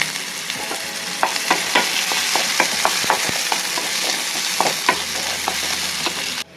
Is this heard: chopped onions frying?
yes